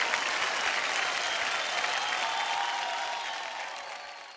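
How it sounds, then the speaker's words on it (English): Audience applause rings out at an award ceremony, a loud dense wall of clapping and crowd noise that holds steady and then gradually fades toward the end. "Ladies and gentlemen, a round of applause."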